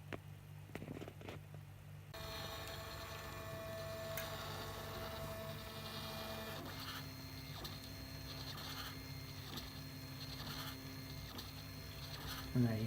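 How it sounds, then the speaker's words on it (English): An Eryone 3D printer heats back up after a pause and homes its X and Y axes: a steady mechanical hum with faint whirring and periodic soft ticks from motor movement, fairly quiet throughout. "printer starts heating back up again"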